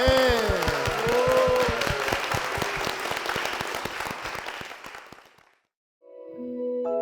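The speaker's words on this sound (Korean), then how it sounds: "주님께 영광의 박수를 드리겠습니다." A congregation at Sindun Methodist Church applauds, dense and loud at first over the tail of sung music, then thinning out and fading into silence before a soft, sustained tone enters.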